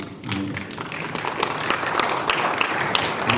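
An audience claps together in a sustained, dense round of applause that starts quickly and stays strong, with a voice faintly audible beneath it.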